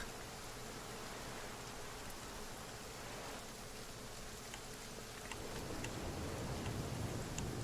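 Steady rain falls in the video game The Flame in the Flood, a constant hiss of drops that thickens and grows slightly louder near the end, with no voices.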